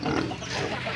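Pig grunts and oinks fill the second, close and fairly loud, with a bit of background farmyard noise from a piggery.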